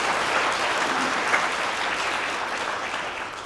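Sustained applause from a church congregation at a Sunday worship service, welcoming a visiting art-college professor as a guest; steady, dense clapping that fills the room evenly and fades slightly toward the end.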